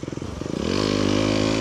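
Aprilia RX125 motorcycle engine at full throttle while riding off-road: a near, loud engine that starts with uneven sputtering pulses, then climbs into a steady, high, buzzing drone under load.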